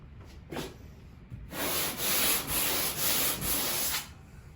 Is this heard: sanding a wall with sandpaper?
yes